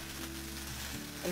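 Chicken frying in a pan, a brief steady sizzle with a low hum beneath, close and even.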